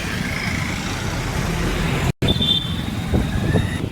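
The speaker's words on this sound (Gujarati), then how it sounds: "અને ટ્રાફિક તો તમે જોવો અહીંયા ફાટકે ફૂલ થાય જ છે." Road traffic by a railway crossing in Junagadh, a steady rumble of cars, buses and trucks idling and passing close by, with one brief dropout partway through and no clear speech.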